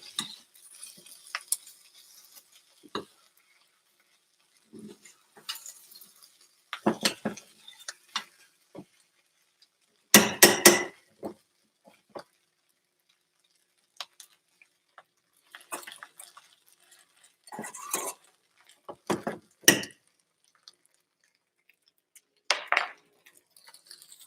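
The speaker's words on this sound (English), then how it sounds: "I'm going to just mix them all together now" Ingredients for a one-pan breakfast skillet are stirred together in a small pan, with scattered clinks and scrapes of a utensil against the pan in irregular bursts separated by quiet gaps.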